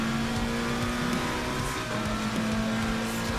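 A McLaren race car at Kyalami in Assetto Corsa Competizione roars with a dense, continuous engine note, holding steady and loud throughout.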